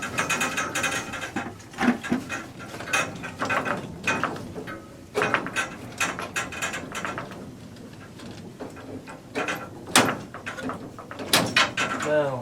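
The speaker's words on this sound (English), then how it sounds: "I got the screwdriver there" A screwdriver works a screw during a basement sink installation, giving a series of close, uneven ratcheting clicks and scrapes while people talk intermittently.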